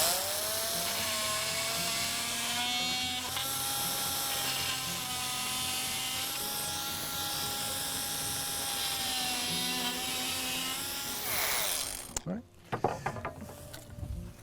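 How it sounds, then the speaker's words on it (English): An oscillating multi-tool saw cuts through a board, giving a loud, steady high-pitched buzzing whine for about twelve seconds before stopping abruptly, followed by a few clattering knocks. "Then using the oscillating saw to do the cut."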